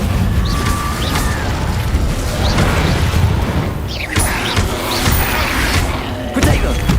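In the Hogwarts Legacy video game, the Incendio fire spell is cast repeatedly during combat, producing loud whooshing bursts and booming impacts over a busy, rumbling battle background.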